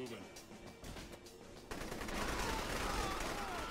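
Gunfire in the video game Saints Row 3 Remastered: a dense, loud, continuous barrage of shots that intensifies partway through, with a voice talking over it.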